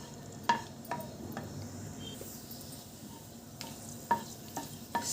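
Cardamom pods, cloves and a piece of cinnamon fry in hot oil in a pan, giving a faint, soft sizzle broken by occasional sharp clicks and taps from stirring, with no voices.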